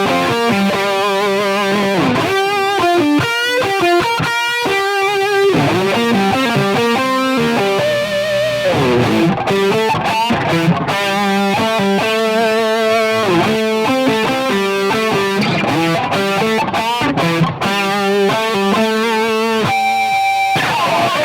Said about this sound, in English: Now let's hear the lead plus plus in its default form, which has the chorus on, some delay, and just a slight hint of reverb.